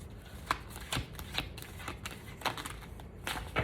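Cards being shuffled close up, a series of quick riffling bursts at an uneven rhythm with no one talking.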